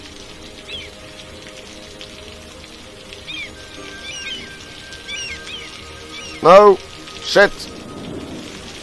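In the city-building game Cities: Skylines, steady rain hisses softly in the background while a player's voice breaks in with two loud exclamations.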